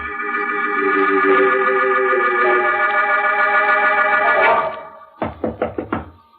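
Knocking on a door in an old radio mystery drama, five or six firm, evenly spaced raps close by, following a sustained swelling organ-like music chord that fades out just before them.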